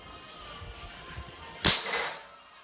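A single sharp crack from a .177 caliber Crosman Mission nitro piston break-barrel airgun firing, preceded by faint handling noise and followed by a brief ringing decay.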